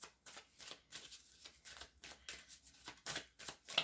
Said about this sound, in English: Now, I need to pull another card for the Piper here.